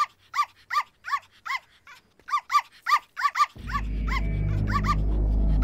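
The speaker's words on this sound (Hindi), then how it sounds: "ये कुत्ता जब जब भौंकता है" A dog barks in a tight series of sharp, loud, evenly spaced woofs, pausing briefly and then resuming, before a loud low rumbling drone swells up and covers the end.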